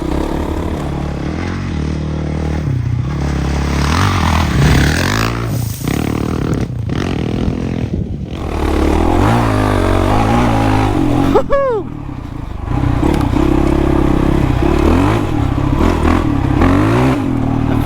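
A 20-year-old Honda CRF450X dirt bike rides tight off-road single track, its engine loud and close, roaring and revving up and down through the throttle with brief drops and surges, a short high whine partway through.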